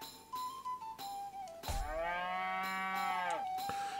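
Cows moo in the South Park: The Stick of Truth video game, one long, loud, close lowing call over a steady background music tone, with a short softer sound before it.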